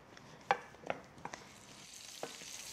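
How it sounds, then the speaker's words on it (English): Baby shallots and bacon lardons sizzle softly in a frying pan while being stirred, with a few sharp scrapes and taps of a utensil over the low frying hiss. "into the pan with the bacon. And we give these a good stir around until the shallots just start turning to brown."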